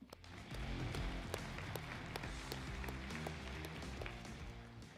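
A round of applause at the South Boston Speedway awards banquet: a room of people clapping steadily, with a dense patter of hand claps that stays even and fairly faint throughout.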